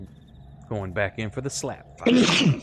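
A single sharp human sneeze during a tabletop role-playing session, loud and close, coming right after a short stretch of someone talking.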